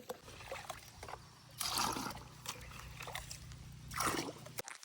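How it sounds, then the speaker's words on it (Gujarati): Water is poured by hand onto young plant seedlings in a nursery during a power cut, with no pump running. Two short, splashy pours stand out over a low steady hum and faint background noise. "આપણે બધા છોડવામાં આ રીતે પાણી નાખી દઈએ થોડું થોડું"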